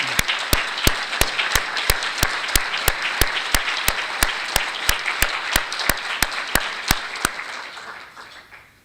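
Audience applause at a monthly conference, a steady wash of many hands cut through by a regular loud rhythmic clap beat, holding strong before fading out toward the end.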